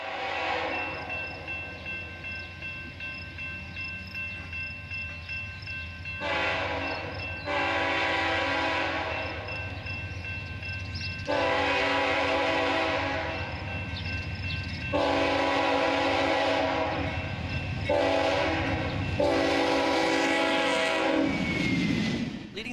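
A CSX C40-8W diesel locomotive leads a freight train past near Romulus, its loud horn sounding in several long blasts over the continuous rumble and clatter of the rolling cars, close by throughout.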